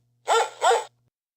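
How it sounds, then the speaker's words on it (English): A dog gives two quick, close barks in a row against an otherwise silent background. "Dog."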